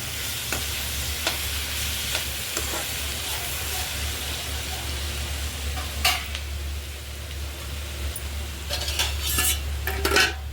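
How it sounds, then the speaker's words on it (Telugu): Ivy gourd fries in a pan with a continuous hissing sizzle while a spatula stirs it, producing intermittent metallic scrapes and clinks that grow busier toward the end. "ఇదిగోండి దొండకాయ కొంచెం మగ్గింది, ఇంకా దగ్గరికి వేగాలండి."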